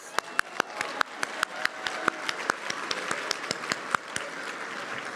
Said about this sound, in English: One more cheer to the awardees.